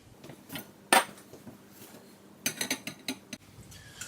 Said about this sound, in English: Now I'm going to add this into my cream asparagus mixture.